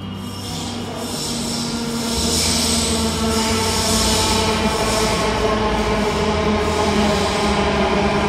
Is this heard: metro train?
yes